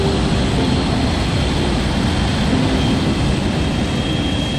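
An Avro Vulcan XL426 jet bomber taxis on an engineering test day, its engines giving a steady, loud, broadband roar with a faint whine and no break across the clip.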